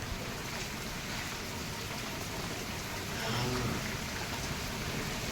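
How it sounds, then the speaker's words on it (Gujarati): Steady rain falls outdoors at night, a continuous soft hiss of drops that swells slightly midway, fairly faint and with no other sounds over it. "હજે છે વરસાદ ચાલુ।"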